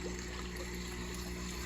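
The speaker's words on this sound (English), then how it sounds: "After decanting for about 30 minutes, we put back the water" Water pours steadily back into a grow bed filter in a small aquaponics setup, a faint continuous trickle under a constant hum, with no voices.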